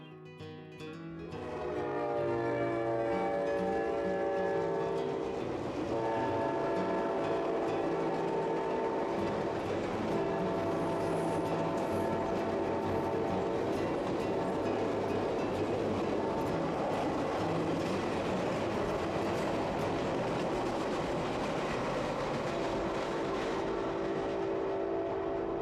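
A CPKC Holiday Express train rumbles past nearby, a sustained roar that swells and holds with layered mechanical tones and rattling throughout.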